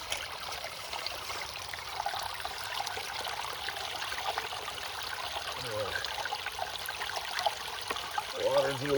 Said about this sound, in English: And we're sluicing